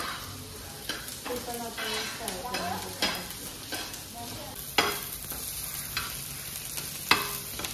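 Ginger and green chilli frying in a little oil, giving a steady close sizzle punctuated by occasional sharp stirring clicks and scrapes against the pan.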